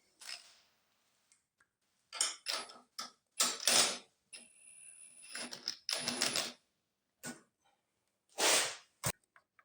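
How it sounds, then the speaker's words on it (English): Bolts being unscrewed from the starter of a 30-year-old Stiga Villa lawn mower: intermittent metallic clicks, ratcheting and scraping in short separate bursts, close by, with quiet pauses between. "I just have to unscrew the bolts to the starter."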